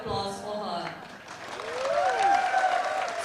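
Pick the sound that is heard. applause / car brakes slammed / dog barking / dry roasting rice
applause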